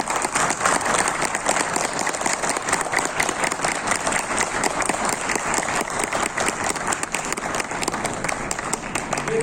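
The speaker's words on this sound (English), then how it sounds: "Let me understand from your clappings." A seminar audience claps loudly and continuously, dense overlapping hand claps from a large crowd sustained without a break.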